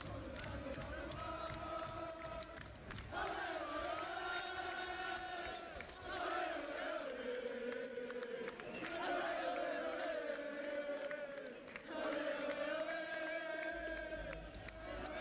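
Rugby league stadium crowd in a Super League match between Hull FC and Wigan, a sustained loud roar of booing and jeering directed at the kicker, rising and falling in waves across the whole stretch with no clear individual voices.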